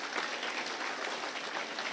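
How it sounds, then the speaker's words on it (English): A crowd at a county fair queen contest applauds the contestants, a dense, even wash of many hands clapping, moderately distant and steady throughout. "So give these girls another round of applause for these great speeches."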